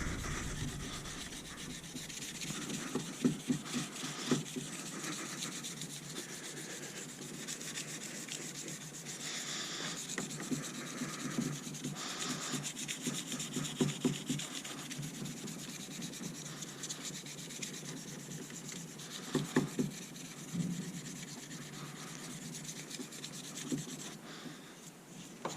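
Hand sanding a knife handle with 600 grit paper, a steady back-and-forth rubbing scrape that runs continuously at close range, with soft rhythmic strokes and no talking.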